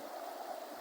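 Rainwater from a heavy downpour rushing and flowing along the ground, a steady dense hiss of moving water heard close and alone for a brief moment.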